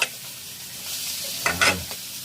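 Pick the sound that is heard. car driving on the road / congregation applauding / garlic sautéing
garlic sautéing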